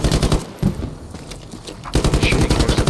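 Loud, close automatic gunfire in the military shooter Squad, with rapid bursts that break off briefly and then resume in a sustained stream.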